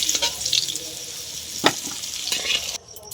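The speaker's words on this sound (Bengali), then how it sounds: "জন্য আমি আলুটা ভেজে নিচ্ছি" Potatoes fry in hot oil in a wok, giving a steady close sizzle with scattered crackles and brief stirring scrapes.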